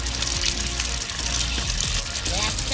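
Water running steadily from a tap during toy car wash play, a continuous close gushing stream with faint voices and small sounds over it.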